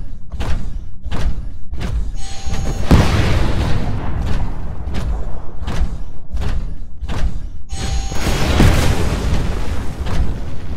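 Rockets blast in a hallway in the video game Titanfall, a rapid series of heavy booming thuds landing roughly every second, loud and close, with a couple of bigger explosions swelling into rumbling noise.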